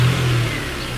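A car engine runs loud and close with a low, steady rumble that eases off slightly after an initial rev, heard alone without voices.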